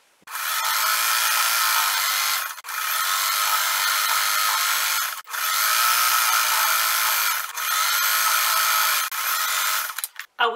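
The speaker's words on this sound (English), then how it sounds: "I'm going to go and sew close to the edge all the way around." A sewing machine stitches close to the edge of a crazy-curves quilt block, running in four long steady bursts of a few seconds each with brief pauses between, loud and close.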